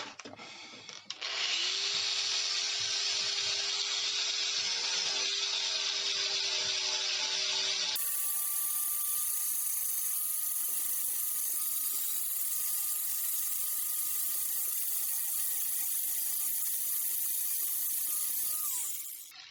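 A variable-speed power tool strips zinc from rusty Land Rover sheet metal, whining loud and continuous for about seventeen seconds, with its pitch jumping partway through, and no voices.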